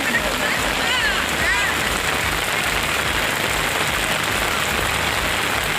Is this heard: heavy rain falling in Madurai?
yes